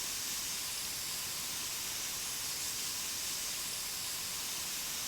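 Steady spray painting in Spray Paint Simulator, a continuous, even hiss of the spray can that holds without a break, fairly faint and close, with no voices.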